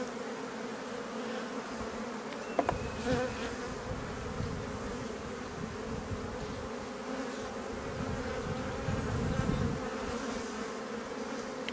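A honeybee colony in an open hive gives off a dense, steady buzzing drone that fills the whole stretch, with a few louder swells as bees move close. No one speaks.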